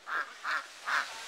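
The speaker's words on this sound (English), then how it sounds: "Check out these ducks." Ducks quack three times in a slow, even rhythm, moderately close and fairly quiet, over a steady outdoor background hiss.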